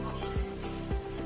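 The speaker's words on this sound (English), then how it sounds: "ghee get heated, add chopped onion and fry it till golden brown" Chopped onion fries in heated ghee with a soft, continuous sizzle, broken by two brief scraping stirs of a spoon against the pan, close up and without talk.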